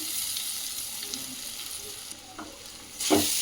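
Poha (flattened rice) stirred in a frying pan, a soft continuous sizzle with light scraping and stirring scrapes, a sharper clatter near the end, heard close and quiet with no talk.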